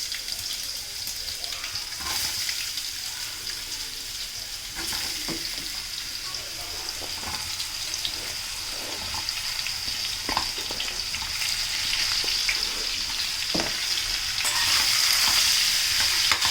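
Raw mango pieces fry in a hot tempering of mustard seeds, curry leaves and asafoetida, giving a constant bright sizzle with scattered sharp crackles and spatter, growing slightly louder toward the end.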